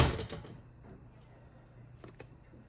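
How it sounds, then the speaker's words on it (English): A small kitchen drawer slides open with a brief scraping rumble, then goes quiet before a couple of light clicks and knocks as items inside are handled. "Let me go in my little drawer here."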